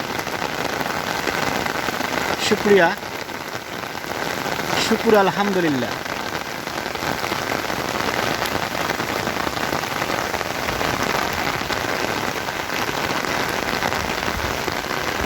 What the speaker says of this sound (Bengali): এই বৃষ্টির দিন দিন ঝিনঝিন ঝিরঝির শব্দ আর টিনের ঘরে সুন্দর একটি শব্দ